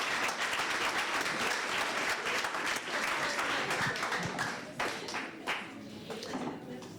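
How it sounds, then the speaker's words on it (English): Room audience applause rises in dense, steady clapping, then thins to scattered claps that fade out by the end. "Can we clap even more for yourselves in the room?"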